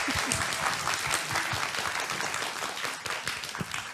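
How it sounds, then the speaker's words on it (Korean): Studio audience applause at a public broadcast of a Korean political news talk show, sustained dense clapping that holds steady throughout as a guest is welcomed onstage. "박수로 맞이해 주시기 바랍니다."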